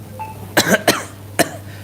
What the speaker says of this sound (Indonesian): batuk saja